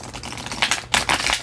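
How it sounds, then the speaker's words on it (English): Thin, bendable tarot cards of about 250 to 280 GSM being ruffle shuffled, giving quick close bursts of crisp rapid fluttering clicks as the cards riffle together. "Can I shuffle them?"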